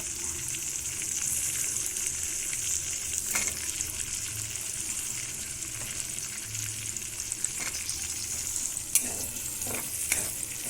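Chopped capsicum stir-fries for chilli chicken, a continuous bright sizzle from the pan that holds steady throughout, with a few sharp scrapes and clicks of stirring near the end.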